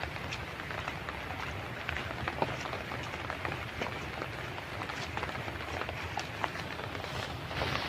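Steady rain patters on a surface outdoors, a dense even hiss with scattered drops, moderately quiet and continuous, with no voices.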